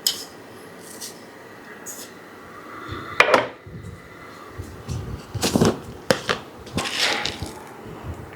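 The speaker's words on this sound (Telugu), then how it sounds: "నూగులు ఒక 3 స్పూన్లు నువ్వులు వేస్తున్నాను" Three spoonfuls of sesame seeds tip into a dish of rice flour and tomato mix, making scattered rattling, crunchy clinks of seeds and a spoon against the bowl, with several distinct close pours and taps spread over the stretch.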